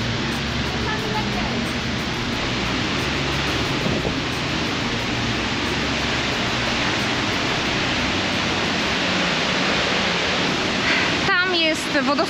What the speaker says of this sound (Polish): Jest wodospad Manafossen, jeden z piękniejszych wodospadów w Norwegii.